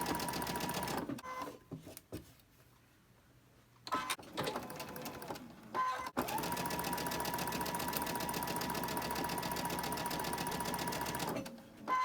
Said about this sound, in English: first, and then I'll sew the other side